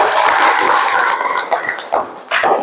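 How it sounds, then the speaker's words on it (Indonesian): Classmates clap for a student in an Islamic religious education class, a dense, busy patter of hands at steady volume throughout with a few sharper claps near the end. "Tepuk tangan dulu untuk Anggi."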